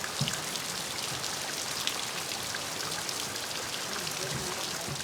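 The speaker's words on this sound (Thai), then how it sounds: "ฝนตกแล้วทุกคน" Steady, dense rain patters and splashes on nearby surfaces, a continuous hiss with no pauses.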